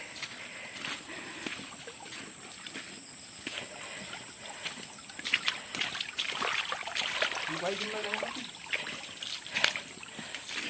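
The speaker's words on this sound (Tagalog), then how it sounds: "Alam mo malakas yung tubig." Steady rushing water runs throughout at moderate level, with occasional splashes and a brief voice-like sound partway through.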